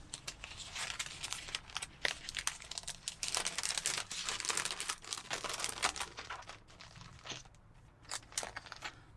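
A plastic bag crinkles and rustles nearby as a pack of eight C6 envelopes is slid inside and the air pushed out, giving soft, irregular crackles that continue throughout without speech.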